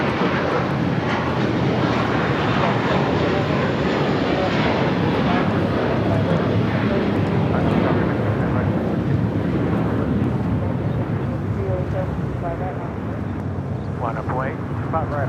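A Boeing 747-400 freighter roars steadily at LAX airport. The broadband jet noise is loud and sustained, with faint radio-style voices underneath.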